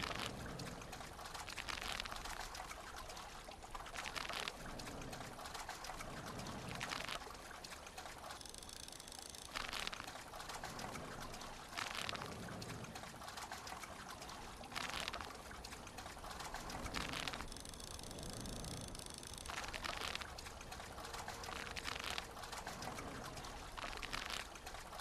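Continuous trickling and pouring water in a survival video game plays at a low level as a steady liquid stream with small surges, with no talking.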